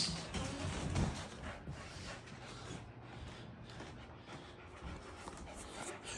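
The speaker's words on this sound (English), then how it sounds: "Got two dogs. They both want the toy." Two dogs pant heavily and close up while tussling over a wet toy, with rough rustling and scuffling noise throughout and no clear talk.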